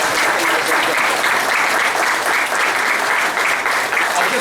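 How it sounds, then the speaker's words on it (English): A village candidate forum audience applauds loudly and steadily throughout, a dense wash of many hands clapping that holds at full strength without letting up. "So ladies and gentlemen, I'd ask you to all give them a round of applause."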